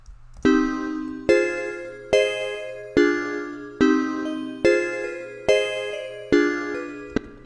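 A bright, bell-like synth counter melody in a trap beat plays steady repeating notes about every two-thirds of a second over a low sustained bass, with no vocals.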